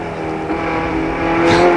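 Race cars on the 1987 Amaroo Park AMSCAR circuit roar steadily with a sustained engine drone, rising slightly toward the end as a car passes close, loud and continuous with no talk.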